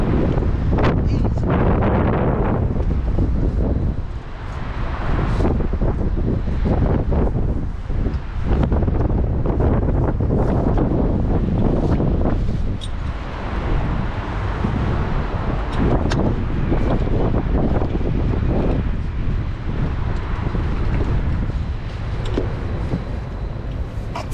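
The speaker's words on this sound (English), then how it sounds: "This wind is so disturbing." Strong wind roars and buffets the microphone nonstop on a windy day of rope-access abseiling, a loud, dense rumble with gusty swells and no clear pauses.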